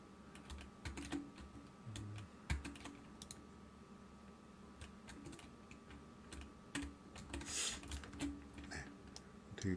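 Computer keyboard keys are tapped in quick irregular clusters, quiet and close, while shortcuts are entered in Blender's 3D viewport.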